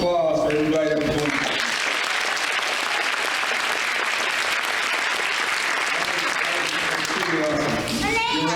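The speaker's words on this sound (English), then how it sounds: "I'll give a round of applause for everybody that performed" Audience applause for the performers at an ACE keynote event, a sustained loud wash of clapping and crowd noise, framed by amplified speech at the start and end.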